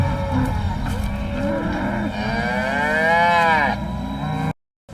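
Several cows on a rugby pitch moo in long, overlapping calls. One drawn-out moo close by rises and falls, and the sound then cuts off abruptly.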